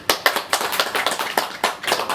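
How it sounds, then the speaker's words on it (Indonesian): A small group claps in rhythm at a social welfare session for elderly and disabled participants, a string of sharp evenly spaced claps repeating steadily with no talk over them. "tepuk tangannya pada Ibu"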